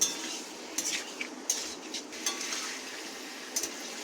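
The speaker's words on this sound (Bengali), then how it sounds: "আগে থেকে ভেজে রাখা মিষ্টি কুমড়ো আর আলুটা দিয়ে দিলাম দিয়ে ভালোভাবে সব কিছু মেশাবো" A utensil stirs fried pumpkin and potato with Malabar spinach and prawns in a pan. It scrapes and clinks against the metal in light, irregular knocks that sound close but quiet.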